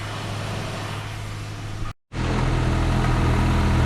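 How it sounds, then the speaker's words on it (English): Opel Astra G 1.2 petrol engine idling in a steady low hum, briefly cut to silence midway before resuming slightly louder. "I have started the engine"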